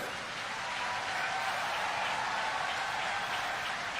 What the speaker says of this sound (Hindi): जोर से एक बार तालियां हो जाए।